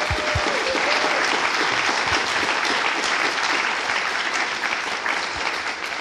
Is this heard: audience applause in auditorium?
yes